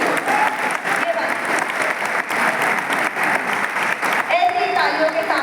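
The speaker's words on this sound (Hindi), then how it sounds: "तालियां कमजोर हैं आपकी, ये गोरखपुर वाली तालियां नहीं है बिल्कुल भी" Steady, dense audience applause at a Hindi poetry gathering in Gorakhpur, continuous clapping for several seconds with a brief voice near the end.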